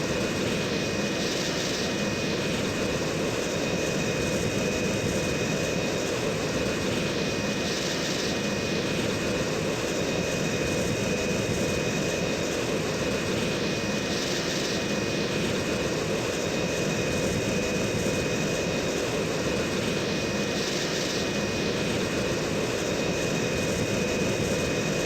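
Jet aircraft engine at high power in the Strike Fighters 2 flight game, a loud continuous roaring whine with a steady high tone, unbroken throughout with no talking.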